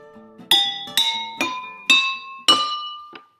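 Homemade xylophone of water-filled drinking glasses struck with a wooden spoon: five bright ringing clinks at an unhurried pace, each note at a different pitch, plus a faint final tap, close and clear with no talking.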